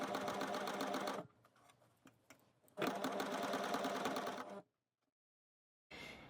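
Coverstitch sewing machine stitching a hem in fabric, running loud and steady in two bursts of about a second and nearly two seconds, with a pause of handling noise between, then a brief restart at the end.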